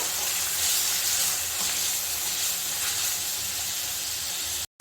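Onion and tomato frying in a pan for egg fried rice, giving a loud, steady sizzle and hiss that runs unbroken for several seconds before cutting off abruptly.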